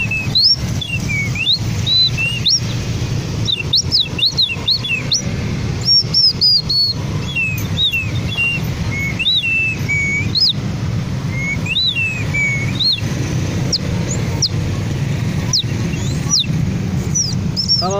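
A bamboo whistle imitates a white-eye bird call with repeated short, high, chirpy tweets scattered over several seconds, played over a steady low background hum and rustle.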